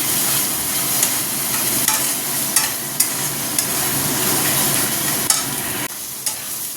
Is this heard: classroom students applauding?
no